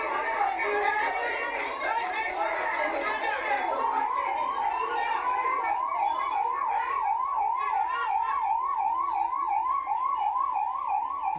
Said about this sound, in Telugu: అప్పుడు వస్తుంది అంబులెన్స్